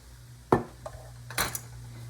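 A spoon scoops an ingredient into a pan while making spicy Thai peanut butter noodles with chicken: two distinct metallic clinks against the pan with a few softer scrapes and taps, fairly quiet over a steady background hum.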